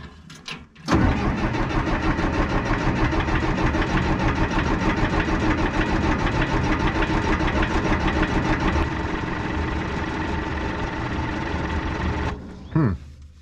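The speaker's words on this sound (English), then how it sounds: "let's see if this thing will start up without any preheating" Diesel engine of a Cat D3 bulldozer cranking over without preheating, a loud steady churning drone held for about eleven seconds with no catch, then stopping with a short mechanical whine.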